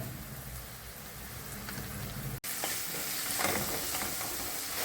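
Paneer bhurji with turmeric and red chili powder stirred in a pan, giving a steady close sizzle with scraping spatula strokes that shift briefly after a cut partway through, with no talking.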